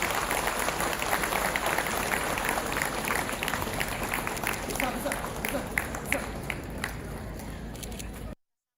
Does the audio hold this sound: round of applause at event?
yes